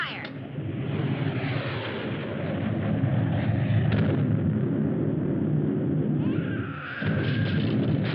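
A bombardment from a 1954 film rumbles with heavy, continuous explosions and gunfire, booming blasts overlapping into a dense roar, with voices mixed in.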